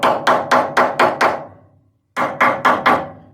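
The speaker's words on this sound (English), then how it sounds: "take the ball peen hammer, and then just go ahead and tap them flat" A ball peen hammer taps rivets flat on a Factory Five car build, sharp quick even metal strikes, five in a row, a short pause, then several more, close and loud.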